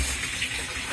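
Water gushes and hisses steadily from leaking plumbing during a restoration, a close continuous rushing spray with no voices over it.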